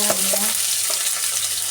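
Onion goes into hot oil for veg pulao and is stirred, a continuous close sizzle with a few quick scraping strokes of the spoon early on.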